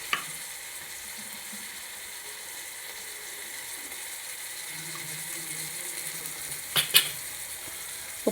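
Onions frying in a pan as a steady, even sizzle close by, with a brief clatter of utensil against the pan near the end.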